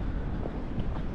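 Wind at Ngong Hills near Nairobi, Kenya, among wind turbines, buffets a microphone, making a low, steady rumble of gusty noise with no voices.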